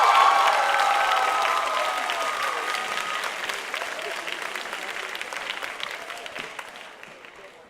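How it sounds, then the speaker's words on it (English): Warm audience applause for Daniel at the opening ceremony of the 2013 ATCC, a loud sustained crowd clapping with some cheering and a few voices, slowly fading over several seconds. "是不是给我们的 Daniel 再一个热烈的掌声"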